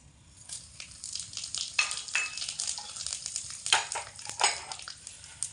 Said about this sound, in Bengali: একই তেলের মধ্যে ফোড়নে দিয়ে দেব কিছুটা পরিমাণে গোটা জিরে, একটা শুকনো লঙ্কা, অল্প একটু মৌরি